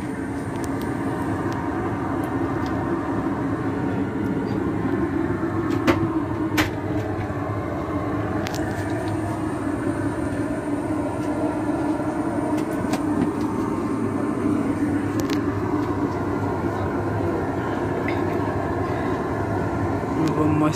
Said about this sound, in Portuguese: vim aqui no banheiro do avião